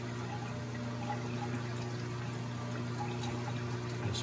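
A GE washing machine drains water in a steady continuous pour, with a low motor hum running underneath throughout, fairly close and even in level with no talking.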